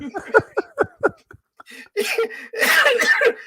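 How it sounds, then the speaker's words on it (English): Harsh coughing bursts from people in a room, loud and close, coming in rough, breathy clusters after a stretch of quick speech. "We're coughing, we're sneezing."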